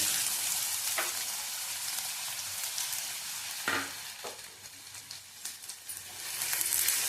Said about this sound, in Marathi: दोन चमचे मी तेल टाकले त्यात आता आपण कांदा भाजून घेऊया